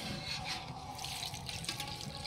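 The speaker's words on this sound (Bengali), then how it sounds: "এখন চিকেনে ঝোল দেওয়া হচ্ছে" Water pouring steadily into a pan of chicken curry to make the gravy, a continuous splashing stream at moderate level with no talk.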